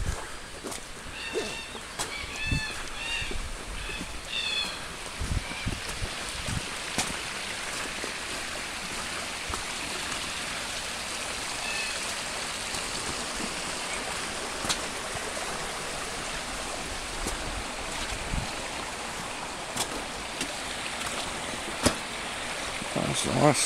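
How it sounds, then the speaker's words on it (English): Distant waterfall along the 60-foot falls trail in Ellis Brook Valley, heard as a steady, even rush of flowing water that fills the whole stretch, with faint scattered thumps and movement over it. "it's coming from a waterfall that we're walking up to and over the top of"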